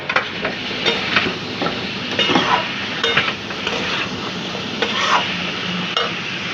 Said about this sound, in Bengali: এই যে মশলা টশলা দিয়ে দিয়েছি। এখন নেড়ে নেব।